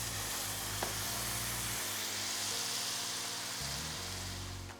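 A mixture fries in a pan of neutral oil, giving a steady, dense sizzle close up with no voices over it.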